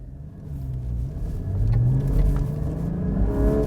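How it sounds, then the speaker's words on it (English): A Porsche Cayman GT4 engine runs up close with a deep rumbling idle that swells into a rising rev and holds at a louder, throaty level, with no voices. "let's start it up and go for a drive"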